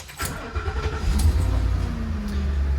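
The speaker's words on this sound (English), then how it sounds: "I'll go ahead and start the engine." A 2022 Fleetwood Fortis 34MB motorhome engine cranks and catches, then settles into a steady low rumble close by.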